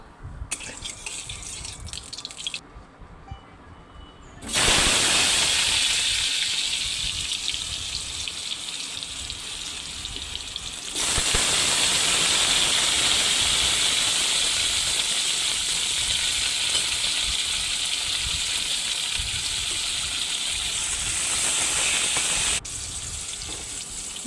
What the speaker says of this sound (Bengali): কড়াইতে তেল গরম করে আলুগুলো লবণ হলুদ দিয়ে ভালো করে ভেজে নেব।